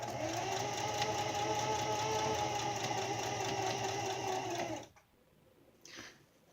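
Sewing machine stitching a crew hat, a steady close mechanical whir and hum that runs for several seconds, then cuts off, followed by a brief softer whir.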